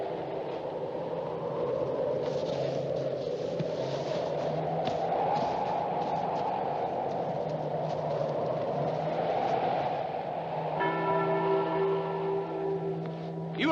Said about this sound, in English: Get rid of that bell!